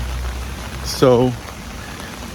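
Heavy pouring rain makes a constant, close hiss throughout, with a single brief spoken word near the middle.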